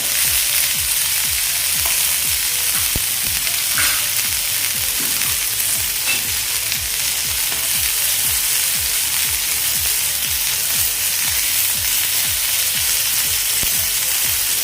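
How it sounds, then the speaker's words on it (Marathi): Bangda mackerel frying in oil, its second side cooking in a pan: a loud, continuous close sizzle with crackling spatters and soft rhythmic low thumps underneath, and no talking. "आता आपण दुसऱ्या साईडने व्यवस्थित असं ट्राय करून घेऊया आता आपण थोडंसं यावर तेल घालून घेऊया"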